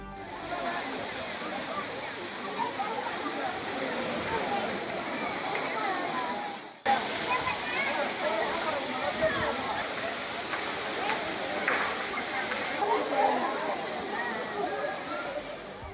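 Waterfall crowded with summer tourists bathing beneath it, heard as a steady, dense rushing roar with sloshing and splashing, continuous for about sixteen seconds apart from one brief cut.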